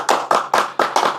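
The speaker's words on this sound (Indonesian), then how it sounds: "Tepuk tangan dong." Five loud, sharp claps in a steady rhythm fill the short clip, an audience clapping at a religious talk with no voices over them.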